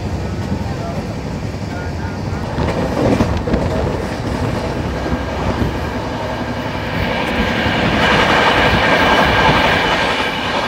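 An express train running at speed on railway tracks, heard as a continuous close rumble with rhythmic wheel clatter that swells louder toward the end.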